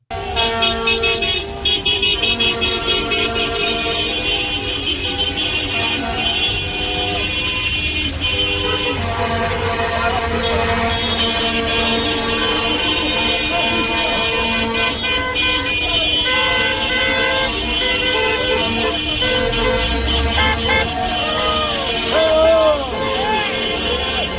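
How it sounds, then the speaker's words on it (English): Cars, sedans, SUVs, pickups and work trucks honk continuously at a cold winter street protest in Canada, with overlapping toots and long blasts layered over a crowd's babble and steady traffic. "it's people in their cars, in their sedans, in their SUVs, in their pickup trucks, in their work trucks"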